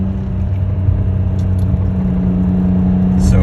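A gated-shifter Lamborghini Murcielago idles with a steady, loud low rumble and faint whir, close by and constant with no revving.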